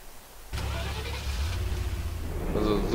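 A vehicle engine in DayZ Epoch kicks in abruptly and keeps running steadily, its rumble building slightly as the vehicle pulls away, close and fairly loud for a few seconds.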